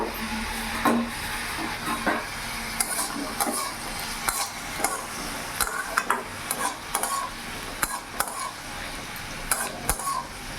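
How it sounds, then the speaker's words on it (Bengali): Cooked onion stalks being stirred in a pan, a spoon scraping and clinking against the metal in irregular close taps over a soft steady sizzle, with no talking. "একটু নাড়াচাড়া করে নিলাম।"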